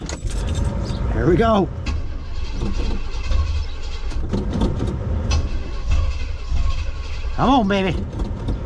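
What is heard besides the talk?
hot rod wagon engine cranking and firing up without carb fuel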